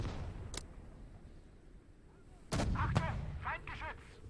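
Gunfire in the World War II video game Gates of Hell, set during the 1941 German invasion of the Soviet Union, with a sharp shot and then heavier bursts over a rumbling battle backdrop.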